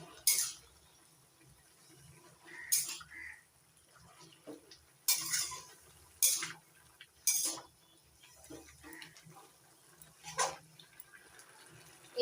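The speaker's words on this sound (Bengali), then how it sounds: "এবার নাড়াচাড়া করে মিশিয়ে নিচ্ছি।" Pumpkin greens with jackfruit seeds being stirred in a pan just uncovered, a spoon scraping and clinking against the metal in sharp, irregular strikes separated by quiet gaps over a low kitchen hum.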